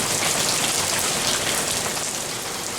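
Steady, dense rain pouring down outside during a heavy downpour, a continuous loud hiss of drops hitting surfaces with no gaps and no voices.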